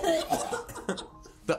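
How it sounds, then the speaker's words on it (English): A short cough lands within lively speech and chuckling, with a final sharper cough burst near the end. "The iPad kid cough never fails to be funny."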